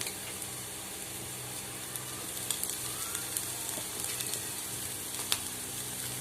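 Capsicum and onions fry in a pan, a steady soft sizzle running throughout with a few light clicks and stirring scrapes, moderately close.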